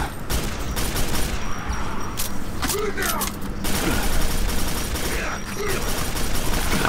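Rapid gunfire during combat in Quake 4 on Stroggos, a continuous loud barrage of shots and mechanical clatter blended with a dense noisy background, while a voice talks over it.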